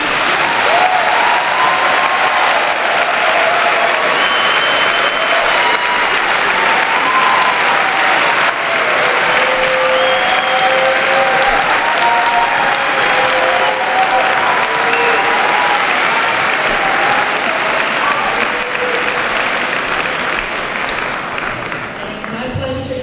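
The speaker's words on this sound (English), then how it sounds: "And now I'd like to give a round of applause for the 8th grade red team." Sustained applause from a large audience at the 2019 Colonial Middle School promotion ceremony, honoring the 8th grade red team; steady, loud clapping continues unbroken for over twenty seconds with faint crowd murmur and voices beneath.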